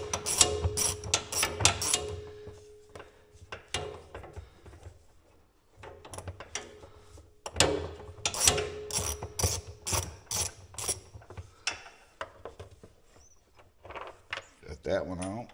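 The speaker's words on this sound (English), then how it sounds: "I like using a ratchet because these are screwing into plastic" A hand ratchet backs a bolt out of plastic on a Polaris Ranger 570, giving quick clicking bursts in several runs with pauses, close up, with a voice talking in places.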